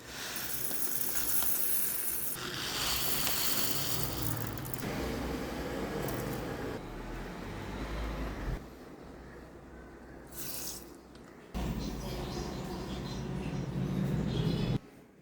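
Black and yellow mustard seeds ground into paste in a kitchen, a continuous rough whirring grind with bursts, brief pauses and a change of pitch partway through, close and fairly loud.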